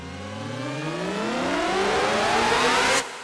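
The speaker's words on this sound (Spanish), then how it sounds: "lo que fui agregando fue estos risers." Synth riser from a Massive Bounce library for a trap beat sweeps steadily upward in pitch and builds in brightness for about three seconds, then cuts off abruptly, loud and alone.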